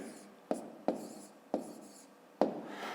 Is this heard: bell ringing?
no